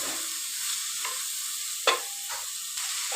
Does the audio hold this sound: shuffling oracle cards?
no